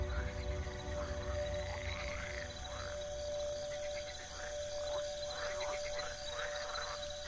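Frogs croak at night in an Iberian forest, repeated rippling calls over a steady chirr of crickets and insects, fairly faint, with a voice speaking over the chorus.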